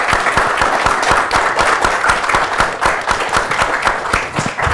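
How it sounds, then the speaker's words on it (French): An audience applauds the speaker Anders at the close of a creative talk, a dense and steady clapping from many hands, loud and even throughout with no talking. "Des applaudissements nourris pour Anders."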